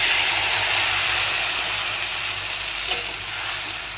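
Loud, steady sizzling of mustard and poppy seed paste frying in a pan for a vegetable shukto, stirred throughout with a constant hiss and a faint clink near the end.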